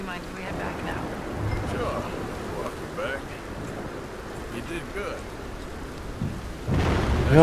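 Steady heavy rain hisses throughout in the video game Red Dead Redemption 2, with low rumbling thunder underneath and a louder surge of noise near the end, partly under faint talk.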